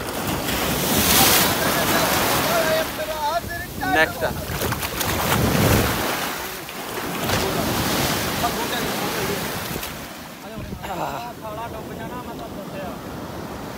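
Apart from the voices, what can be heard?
sea waves on a Dubai beach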